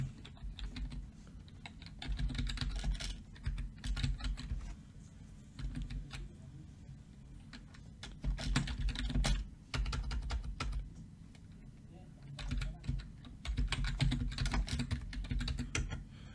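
A computer keyboard clatters with quiet, close typing, fast key taps in uneven bursts separated by brief pauses and no voices.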